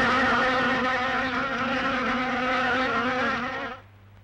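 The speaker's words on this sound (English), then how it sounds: "I keep my poisonous insects down below." Poisonous insects buzzing in a film scene, a loud, steady, dense droning hum with wavering tone that continues unbroken, then cuts off abruptly near the end, with no talking.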